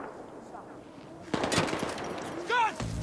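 Gunfire from a sniper rifle in the video game Battlefield 3: a sharp shot bursts in halfway through, then rough action noise and a second loud crack near the end, over a low background and some speech-like sound.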